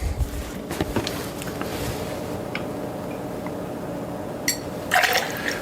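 Coffee liqueur being poured for a White Russian: a soft, continuous liquid pour over faint background noise, ending in a few brief clinks and splashes.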